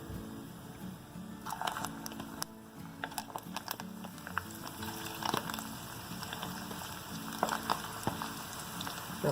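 Chicken meatballs dropped one at a time into a shallow pan with a little hot oil, giving a steady close sizzle dotted with sharp crackles and pops throughout, with no talking.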